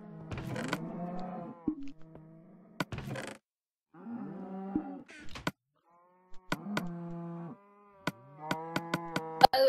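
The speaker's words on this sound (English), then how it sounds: "Wow, this is a lot of pigs and cows." Several Minecraft cows moo in turn, drawn-out bellowing calls repeated over and over with short gaps between them. Sharp game clicks and thumps are scattered among the calls.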